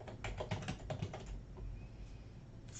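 Quick bursts of keystrokes on a computer keyboard entering a place name into astrology software, clustered clicks in the first second and a half, then a quieter stretch with light background noise and no talking.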